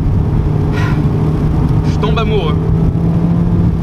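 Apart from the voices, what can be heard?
Mazda MX-5 30th anniversary engine while driving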